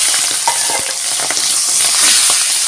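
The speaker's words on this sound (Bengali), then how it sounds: "জিরে তেজপাতা ভাজা হয়ে গেছে এবার দিয়ে দেবো চিংড়ি মাছটা" Prawns fry in hot oil with cumin seeds and bay leaf in a pan, making a loud, dense, close-up sizzle that hisses steadily throughout, with faint scattered pops and stirring scrapes.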